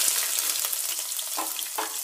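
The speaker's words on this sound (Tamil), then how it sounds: "ஒரு வெங்காயம் கட் பண்ணி வச்சுருந்தேன், அதையும் சேர்த்துடுறேன்." Chopped onion sizzles steadily in hot oil in a kadai, a continuous close frying hiss with small crackles and no talking.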